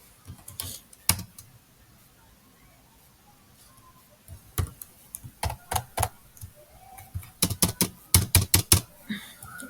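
Bursts of clicky keystrokes on a computer keyboard, close and crisp, with a quiet pause between an early cluster and a denser run of rapid taps at the end.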